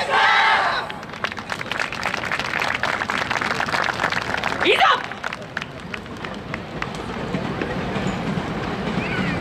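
A crowd claps along at the main stage of the 16th Inuyama Odori dance festival in 2019, as the team Fire's performs; the dense, steady clapping runs throughout with a louder burst near the start and mixed crowd noise.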